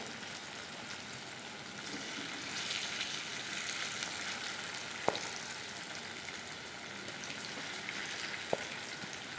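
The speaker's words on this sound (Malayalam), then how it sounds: "നമുക്ക് അപ്പോൾ രണ്ട് പ്രാവശ്യം കൊണ്ട് നമുക്കൊന്ന് വറുത്ത് കോരി എടുക്കാം" Beef sizzles steadily in hot oil for a Kerala-style beef dry fry, a dense continuous crackle with no talk and a few sharp pops near the end.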